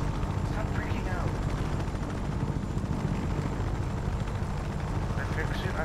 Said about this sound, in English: What is this helicopter? Helicopter!